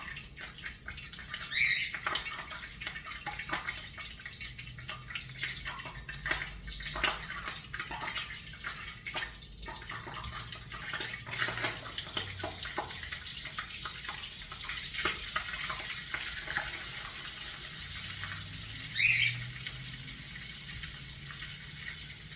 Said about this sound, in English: That popping from the butter is water in the butter.